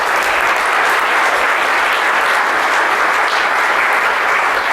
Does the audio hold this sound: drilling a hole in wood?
no